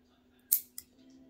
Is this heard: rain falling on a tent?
no